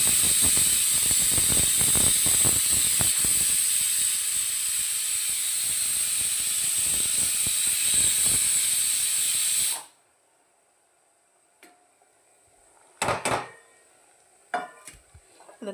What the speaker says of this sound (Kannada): ಇದನ್ನು ಚೆನ್ನಾಗಿ ಕುದಿಸ್ಕೋಬೇಕು ಬೆಲ್ಲದ ಪಾಕದೊಳಗ.